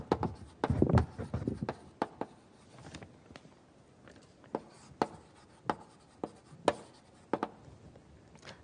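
Chalk on a lecture board writes a formula: a burst of scratchy strokes at first, then sparse, sharp taps and short scrapes spaced irregularly, close and quiet with no talk.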